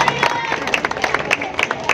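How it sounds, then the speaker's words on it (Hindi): An audience at a community meeting breaks into lively, uneven clapping, sharp individual claps popping out of a murmur of crowd voices and chatter. "ताली है।"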